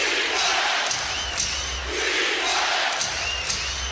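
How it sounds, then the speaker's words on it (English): Basketball arena crowd of Cavaliers fans chants and roars in rhythmic surges, urging the team toward a defensive stop; the sustained loud din swells in repeated waves. "Crowd urging the Cavaliers for a stop"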